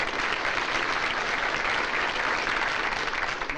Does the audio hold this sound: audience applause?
yes